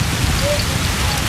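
Steady rain falling on a surface, a dense even hiss that stays loud and close for the whole short moment, with no voices heard over it.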